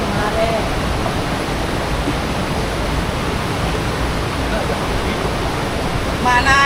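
Batuk Kemalik waterfall pours with a steady, dense roar of rushing water, close and loud, unbroken from start to finish.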